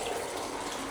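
Water pours steadily near a Shiva lingam in a temple, a brief close, continuous trickling flow like a running tap.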